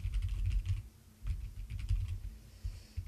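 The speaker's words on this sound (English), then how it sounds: "If I can type correctly" Quick typing on a computer keyboard during programming work, with soft, close key clicks in short, uneven bursts and brief pauses.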